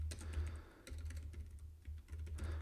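Computer keyboard typing while demonstrating a webinar platform's whiteboard feature: a steady stream of quick, light key clicks, close and fairly quiet, with brief pauses between bursts.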